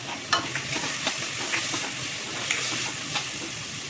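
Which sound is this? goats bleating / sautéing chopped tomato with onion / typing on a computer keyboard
sautéing chopped tomato with onion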